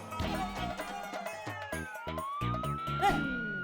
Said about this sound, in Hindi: ये बापूजी सायरन की पुलिस जीप है